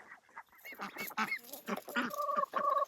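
Four Welsh Harlequin ducklings give a series of close, short calls and honking peeps, irregularly spaced and growing more frequent toward the end.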